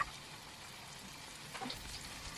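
Popcorn chicken frying in hot oil in a pan, a soft, continuous sizzle and crackle heard fairly faintly and alone, with a slightly busier burst of spattering near the end.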